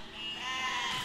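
Sheep bleating inside the physics-building game Besiege, a sustained, fairly loud wavering bleat with overlapping cries filling the whole moment, no talk over it.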